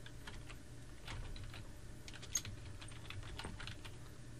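Rapid typing on a computer keyboard in Windows 11, a quick run of soft clicky keystrokes at close range with no talking.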